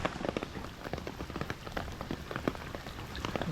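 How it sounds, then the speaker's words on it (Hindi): Rain falls on water at a Kerala island resort, with steady close patter and scattered distinct drops splashing throughout. "क्योंकि बूंदें पड़ रही हैं, वेव्स बन रही हैं, तो इतना क्लियर दिखाई नहीं दे रहा है"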